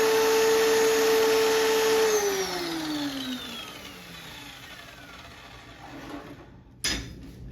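A power tile saw cutting ceramic tile: loud steady motor whine with a high blade tone that winds down as the cut eases, then a brief clatter near the end, with no talking.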